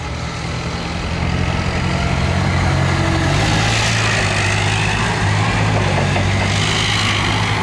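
A Nissan forklift engine with a 3,000-pound capacity, cushion tires and a triple-stage mast runs at a steady idle, a continuous close rumble that rises slightly and holds level throughout.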